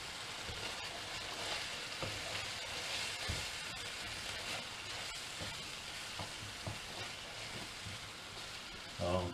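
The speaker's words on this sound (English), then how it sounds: "I'm just going to leave that on a low heat just to simmer" Smoky tomato and beef pasta sauce simmering in a pan on low heat: a soft, continuous sizzle and gentle bubbling, with a louder clatter at the very end.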